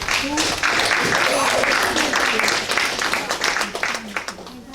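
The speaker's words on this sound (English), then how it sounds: "I want to give a round of applause to our attorney, Mr. Piazza." Round of applause at a school board meeting, steady clapping from the room with people talking over it, thinning out toward the end.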